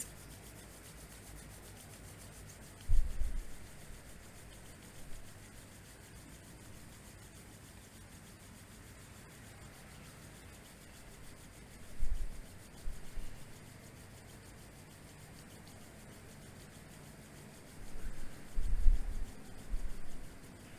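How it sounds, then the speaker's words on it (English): Palms rubbed briskly together to build warmth give soft, dry swishing bursts at three moments, with quiet room noise between them. "So just rubbing your palms together, creating some heat."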